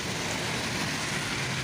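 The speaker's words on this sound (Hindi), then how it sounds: "अभी फ़िलहाल इतनी सी थोड़ी थोड़ी बारिश हो रही है" Light rain falls steadily at night, a dense, even hiss of drops on surfaces with no voices, holding constant throughout.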